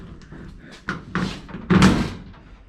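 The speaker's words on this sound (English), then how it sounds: "I have not been able to push this door closed since I put it on" The door of a Factory Five 35 hot rod truck is pushed shut after alignment, heard as a few fumbling knocks building to one solid, close thunk that rings briefly.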